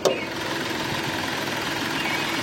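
A diesel 2014 Hyundai Grand i10 Asta idles with the bonnet open, a steady, moderately loud engine hum with a faint clatter, after a brief knock at the start.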